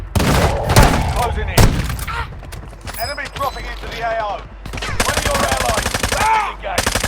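Gunfire in the Warzone Mobile battle royale on Rebirth Island: loud, rapid automatic bursts and single shots crowd together, with voices speaking over the shooting.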